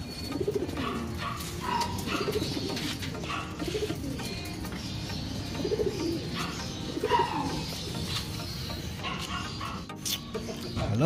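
Racing pigeons coo repeatedly in low, rolling calls close by, overlapping one another over a busy background of birds.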